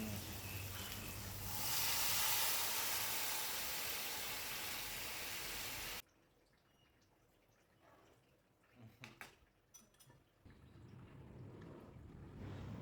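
Boiled dal poured into hot oil tempered with cumin for an Assamese dal, giving a loud broadband sizzle and hiss for about six seconds that then drops sharply to quiet, with a few faint kitchen clatters afterward.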